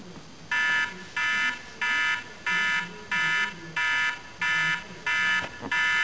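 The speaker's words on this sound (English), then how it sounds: "let's go ahead and do alarm on the second gen." A second-generation iPod Touch alarm beeps in a regular pulsing pattern, eight or nine bright tones about half a second each, with faint voices murmuring underneath.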